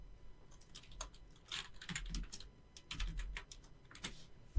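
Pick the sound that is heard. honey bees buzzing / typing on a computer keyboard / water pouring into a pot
typing on a computer keyboard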